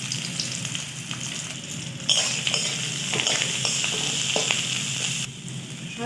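Onion and garlic fry in mustard oil with panch phoron in a wok, a loud steady sizzle with stirring scrapes and light clinks of a utensil against the pan.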